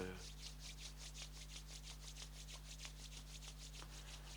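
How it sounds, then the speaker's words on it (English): Two hands rub together in a steady, rapid rhythm, a soft brushing swish repeating evenly at close range over a low electrical hum, with no talking. "Let us rub hands together."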